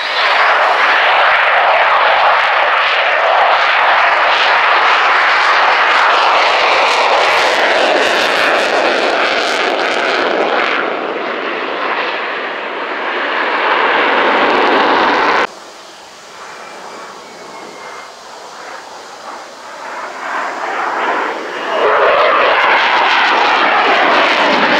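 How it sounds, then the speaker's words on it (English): A modernised Sukhoi Su-27 P1M jet flies slowly past with its air brake deployed at the 2018 RIAT airshow at Fairford, giving a loud, sustained engine roar that dips sharply partway through, then swells again. "This is a modernised one, a Su-27 P1M at very slow speed indeed, with the air brake deployed."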